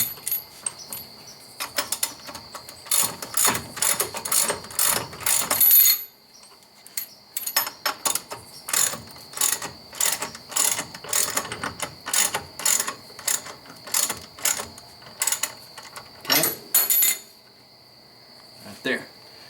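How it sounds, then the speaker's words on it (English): A hand ratchet tightens a lock nut on a trailing arm bushing in rapid bursts of close metallic clicking, separated by short pauses and a brief silent gap. "Since it's a lock nut, you gotta use your ratchet"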